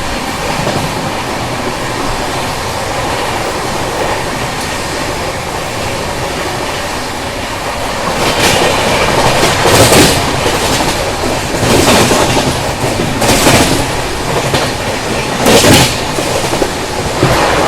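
The Mumbai–Nagpur Duronto Express runs at speed on its rails, heard from inside the coach: a loud, continuous rumble with rhythmic clickety-clack bursts from the wheels passing rail joints, growing busier and louder in the second half.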